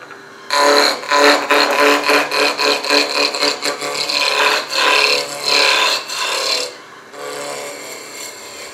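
A wooden spindle spins on a lathe while a spindle roughing gouge cuts it round, giving loud rasping, chattering bursts in quick succession, then a quieter stretch near the end.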